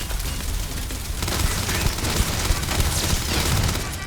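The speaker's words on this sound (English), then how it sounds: "Oh, there's a turret right above me" Turret gunfire in the game Starfield, a steady, dense stream of loud shots and low booms throughout, with battle noise layered underneath.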